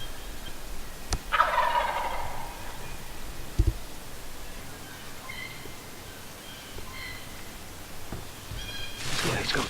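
A wild turkey gobbles at a distance, a brief rattling call breaking through outdoor ambience, with rustling and a second burst near the end.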